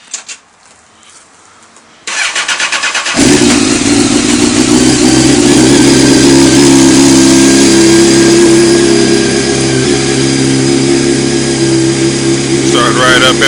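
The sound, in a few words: Honda CBR 929 motorcycle engine starting and running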